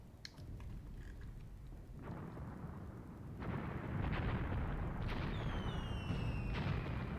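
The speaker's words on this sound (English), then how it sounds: "I am bombarding this area of the Balka as well, just in case there's Nazis in there." Artillery bombarding a balka in Graviteam Tactics during the Second Battle of Kharkov: deep, rolling booms and rumbling explosions, some distant, swelling louder halfway through, with faint whistling shells near the end.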